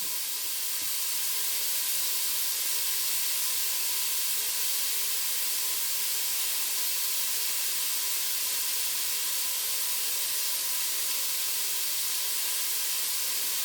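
A steady, continuous hiss of food frying in a pan, even and unbroken throughout.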